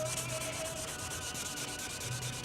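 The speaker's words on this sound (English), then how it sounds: "If I just get this little spot sanded out" Hand sanding a small spot on a Windy U Master 825 boat canopy: a steady rhythmic rubbing of abrasive strokes, close and fairly quiet, with no talk.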